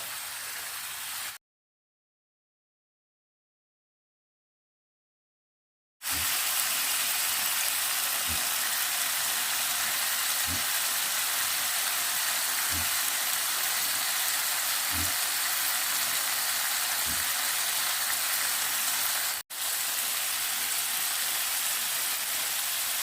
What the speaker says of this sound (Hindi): इसको अच्छी तरह से फ्राई करके इसमें मैं पहले प्याज डालूँगी, सफ़ेद प्याज।